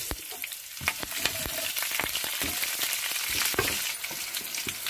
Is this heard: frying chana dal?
yes